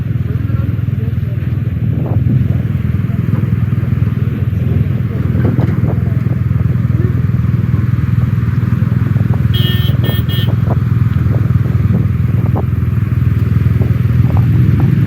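A BMW motorcycle riding off-road, its engine a loud steady drone throughout with brief clatter and a faint horn-like toot partway through.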